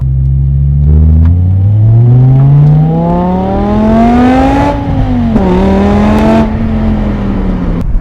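A BMW E60 M5 accelerates hard, the engine pitch climbing smoothly through a long loud pull, dipping briefly at a gear change, then climbing again in a second strong surge.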